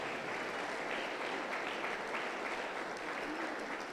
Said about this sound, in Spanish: fuerte aplauso contento para Jesús